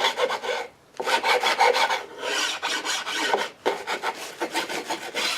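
Melamine edges being sanded by hand, a close, steady series of rasping strokes in a quick back-and-forth rhythm with brief pauses between passes and no voices.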